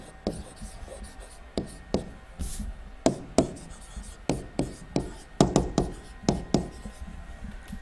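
A pen stroking across paper to draw a line through plotted points for a math lesson: a steady series of quick, close scratchy strokes, roughly two per second, in a quiet room.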